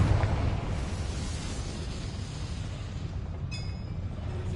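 A fiery Confringo spell blast in Hogwarts Legacy rolls out as a loud, sustained low rumble that fades slightly, with a bright chime ringing near the end.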